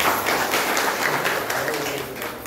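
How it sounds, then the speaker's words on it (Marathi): Applause from the audience at a primary school alumni gathering, a steady wash of many hands clapping that fades slightly toward the end. "ह्या सगळ्यांसाठी एकदा जोरदार टाळ्या वाजवूया आपण"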